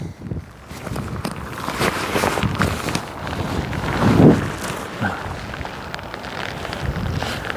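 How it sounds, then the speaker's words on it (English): Rain falls on an Australian rock wall fishing spot as a steady, close crackling patter, mixed with gusts of wind and shuffling movement, swelling briefly in the middle before settling. "I'm just going to wait for this rain to disappear for a second"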